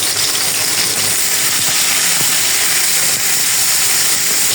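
Green chilies and chopped onion hit hot oil already holding toasted cumin, raising a loud, close, continuous hiss of frying that stays steady from start to finish.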